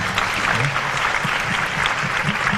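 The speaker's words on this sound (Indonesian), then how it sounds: "Beri tepuk tangan semua yang benar" A room full of people claps steadily for a few seconds, dense and even applause from a modest crowd.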